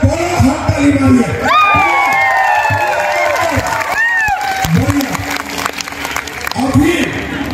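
A large crowd at a political rally in Assam claps and cheers for a candidate named Kaushik, loud and sustained with whoops and shouts, while an amplified voice speaks over the noise.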